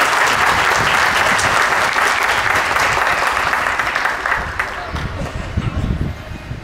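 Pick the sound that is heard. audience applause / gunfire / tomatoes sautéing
audience applause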